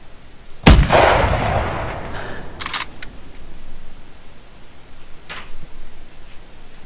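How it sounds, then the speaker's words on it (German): A single loud rifle shot from an Anschütz 9.3x62 in the video game The Hunter 2013 cracks and echoes away, followed by a couple of faint mechanical clicks over quiet background hiss. "Weil ich jetzt natürlich doch gerne einen Schuss mit der Anschütz abgeben will."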